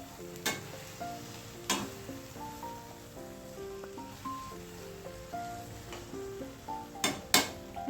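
Carrot halwa cooking in ghee is stirred in a pan, with sharp intermittent scrapes and clanks of the utensil over a soft sizzle, while faint music plays in the background.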